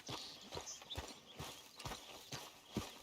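A horse in the Red Dead Redemption 2 video game walks with steady, evenly spaced hoof clip-clops, about two per second. The steps are fairly faint and close, with no one talking.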